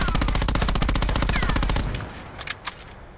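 A SOG gun in a video game fires in a rapid automatic burst, evenly spaced loud shots for about two seconds, then stops, leaving a few faint clicks and thuds.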